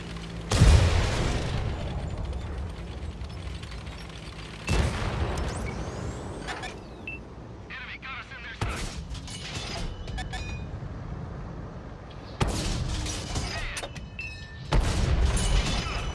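Tank cannons fire in the console video game World of Tanks, with several loud booms spaced a few seconds apart, each trailing off into mechanical rumble, while someone talks between shots.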